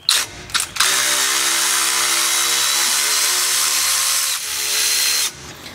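A Milwaukee power tool whirs steadily as it backs out differential cover bolts on a vehicle, with a few short bursts at the start before one long, even run that dips briefly and then stops.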